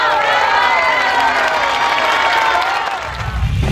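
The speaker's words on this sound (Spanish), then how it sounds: "Les pido un fuerte aplauso para ellos" Loud crowd applause mixed with cheering for children from a street football project, a dense continuous wash of clapping and voices.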